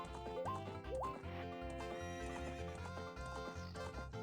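Horse neighing and clip-clop hooves from The Legend of Zelda: Ocarina of Time while riding, set over looping game music; two rising whinnies early on, then steady hoofbeats throughout.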